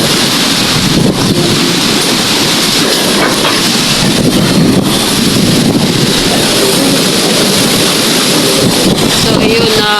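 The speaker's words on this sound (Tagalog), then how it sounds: "Malakas pa rin yung hangin." Strong typhoon wind in Bicol roars loudly and steadily, buffeting the microphone with a constant heavy rush and gusty surges, with occasional rain in the mix.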